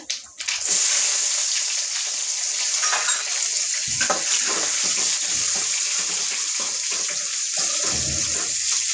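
Onions sizzle in hot oil for a curry, a steady loud hiss and crackle of frying that runs throughout, with faint stirring bumps, and no talk.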